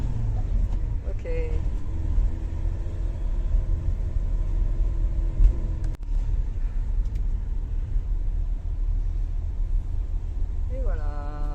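Trucks rolling aboard a ferry on a road trip toward Etna in Sicily, a steady low engine rumble and droning hum filling the space throughout, with occasional voices nearby.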